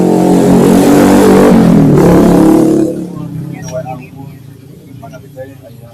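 A motorcycle on a route up Mount Sangar roars past loudly and close, its engine sweeping in pitch before fading after about three seconds, leaving quiet voices in the background.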